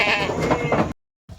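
A Kathiawadi goat on a goat farm gives one loud, wavering bleat close by, then a short silence and the start of another call.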